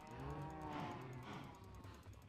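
A cow moos once in a long, low, drawn-out call, fairly close and heard on its own.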